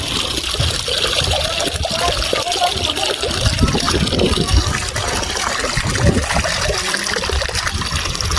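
Water running continuously from a free drinking-water source on a farm field, a loud, steady gushing and splashing flow throughout, with faint voices mixed in.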